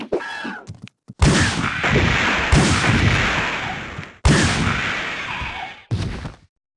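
Mine Thrower mines blow up among Hunter betas in Resident Evil 3 Nemesis, three loud, close blasts, each with a long decaying roar, after a brief burst of squealing creature sounds.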